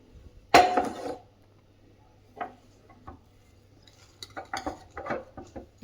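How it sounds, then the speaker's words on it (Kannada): Whistle lifted off a pressure cooker of tomato rice bath and its metal lid opened: one sharp, loud metallic clank up close, then a pause and a run of lighter clinks and rattles, with no talking. "ವಿಸಿಲ್ ತೆಗೆದುಬಿಟ್ಟು ಲಿಡ್ಡನ್ನು ಓಪನ್ ಮಾಡೋಣ."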